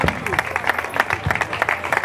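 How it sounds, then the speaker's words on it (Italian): Applause from a crowd at a trophy presentation during a memorial sports event in San Pier Marina, Sicily, steady clapping rising and falling in bursts with voices mixed in. "Un applauso."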